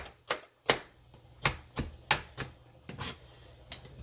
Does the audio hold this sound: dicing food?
yes